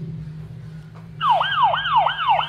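A toy police car's electronic siren wails in a fast, repeating rise-and-fall pattern, loud and close, starting abruptly after a low hum and continuing for several cycles.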